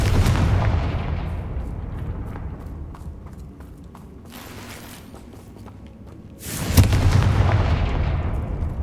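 Confringo blasting spell going off in the Hogwarts Legacy video game: a loud, booming burst of explosive noise that rumbles and fades, followed later by a second sharp blast with rolling debris.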